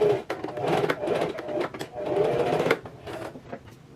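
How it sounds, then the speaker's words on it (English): Sewing machine running short bursts of straight stitching and back stitching, attaching a facing to the bodice of a strapless drop-waist dress; close and fairly loud, stopping and restarting. "just do a couple of straight stitches and back stitches"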